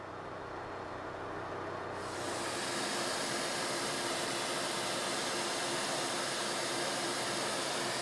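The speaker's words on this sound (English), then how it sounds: "Going back the other direction will be climb milling." An end mill climb milling on a milling machine while making a battery box lid height set fixture: a steady, loud broadband hiss and whir that swells after a couple of seconds and then holds constant.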